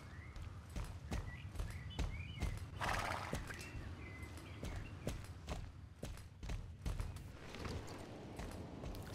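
Horse in the Star Stable Online video game, rhythmic clip-clop hoofbeats walking steadily with a whinny partway through, fairly faint, no talk over it.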